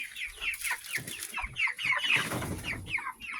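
Broiler chickens clucking nearby in a farm setting, a busy run of overlapping short clucks and calls with a faint flutter of wings, with no talking.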